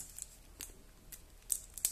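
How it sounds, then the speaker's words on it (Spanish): Scissors snipping at the plastic wrapping of a two-player card game, several sharp, close cuts with crinkling plastic between them. "A ver si puedo enganchar las tijeras en algún lado en esto."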